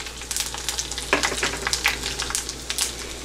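Curry leaves and dry chilies frying in hot oil for a South Indian tamarind curry, a close, busy crackle of sharp pops and spatters over continuous sizzling, with no voices.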